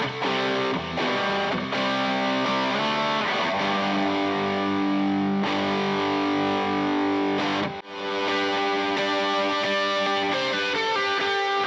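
Electric guitar played through a Boss DS-1 distortion pedal with some delay and reverb, giving a continuous dense, saturated tone of sustained chords that runs nearly the whole time, with one brief dip near the end.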